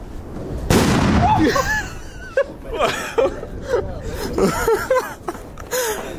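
Firework bombs bang on New Year's Eve, with one sharp loud blast followed by people laughing and chattering close by and a few smaller pops in between.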